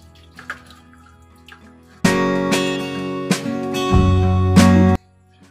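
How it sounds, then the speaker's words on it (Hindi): Water from cooked pasta pours out in a sudden rushing splash for a few seconds, then stops, as the pot is tipped into a strainer. "अब पास्ते को हम इसमें निकाल लेते हैं और इसका पानी छान देते हैं।"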